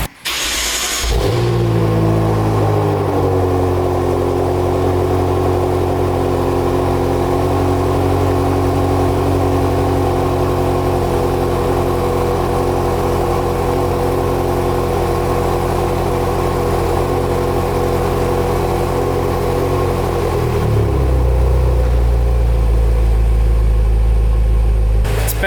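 BMW M6 with turbocharged engine and BMS intake installed, running loud and steady close by, a strong low engine drone with a brief startup burst at the beginning and the pitch dropping near the end, no talking.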